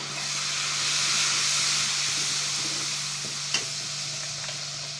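Karahi gosht masala with red chili sizzles loudly in a hot pan as water is added, a dense, steady hiss and crackle that swells and then slowly eases, with one sharp clink partway through.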